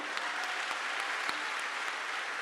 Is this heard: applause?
yes